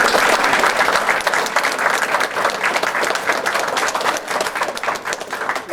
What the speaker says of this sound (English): I think we just need to give everyone a fine round of applause